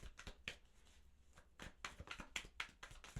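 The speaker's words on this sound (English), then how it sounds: "One more shuffle." Tarot cards being shuffled by hand, heard as a few soft, close riffling and tapping bursts spread across a quiet moment with no speech.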